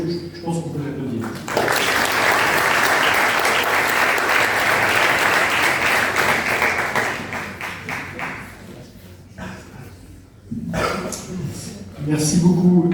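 Audience clapping for a student contestant at a pleading contest in Lyon, a sustained round of applause after a brief spoken introduction, fading out, then voices talking at the end.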